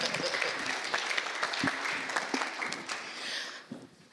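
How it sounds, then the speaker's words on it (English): Audience applause closing a panel session at a Southern Africa–India LPG summit conference, a steady wash of many hands clapping for about four seconds before tapering off toward the end. "can we have a round of applause for Alison?"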